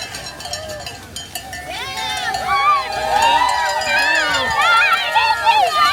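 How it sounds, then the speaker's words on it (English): Spectators cheer and shout for runners along the course of the Seattle Kraken 5K race, a lively crowd of high excited voices rising and building steadily close by. "We got a cheering squad, Cody. Look at them all cheering."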